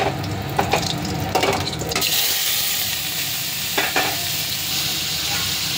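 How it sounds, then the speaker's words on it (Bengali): Bay leaf and cumin sizzling in hot oil in a wok, a loud, continuous close frying hiss with a few sharp spatula scrapes and clacks near the start and again around the four-second mark; no voices. "কড়াইতে দিয়ে দিলাম তেজপাতা আর জিরে সম্বার"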